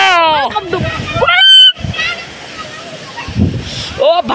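Rushing water flows steadily through a rainy village in Bajhang, a broad continuous wash under frequent nearby talk from several people.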